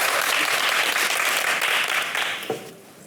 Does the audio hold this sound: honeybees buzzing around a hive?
no